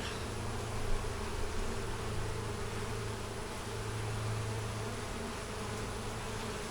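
Honeybees buzz steadily around a hive, a dense continuous drone that holds at an even level throughout with no voices.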